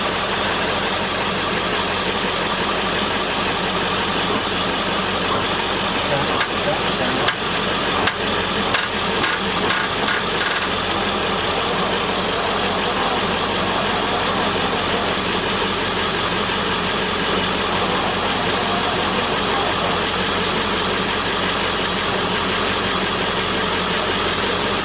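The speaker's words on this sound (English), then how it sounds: "We'll start your truck up, give it a little more amps. Crank it up?" An old Ford flathead engine in a truck, long unused and sticking, churns and runs in a steady, even drone for the whole stretch, with a faint rattle of knocking partway through and no voices.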